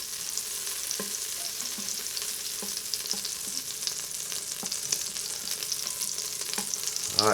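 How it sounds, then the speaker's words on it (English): Butter melting in an Instant Pot makes a constant bright frying hiss, dotted with small scattered pops and crackles throughout, close by and steady, with no talking. "our butter is almost melting and whoo, it's just popping everywhere"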